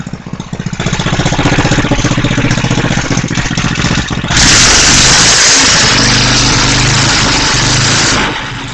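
A Tecumseh engine on an MTD snowthrower runs loud and close, holding a steady idle with a rapid rhythmic chug, then its pitch and noise rise partway through before settling again.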